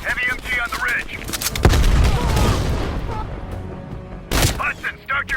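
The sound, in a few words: heavy machine gun fire in video game Call of Duty Black Ops Cold War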